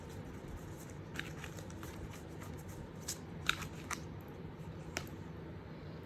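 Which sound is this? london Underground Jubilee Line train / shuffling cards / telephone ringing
shuffling cards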